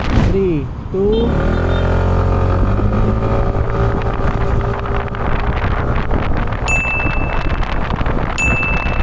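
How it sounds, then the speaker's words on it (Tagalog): A Skytown 150 motorcycle accelerates hard on an open road, its engine note climbing through the gears under heavy wind rush at the microphone, with the rider's voice briefly over it. "Tingnan natin ang acceleration ng motor na to."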